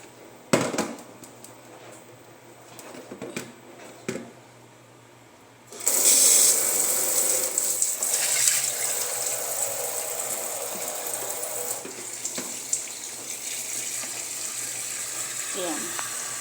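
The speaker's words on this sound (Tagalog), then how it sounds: "magdadagdag tayo ng tubig." Water runs steadily from a tap for about ten seconds after a few clicks and knocks, a bright continuous rush that fills the second half.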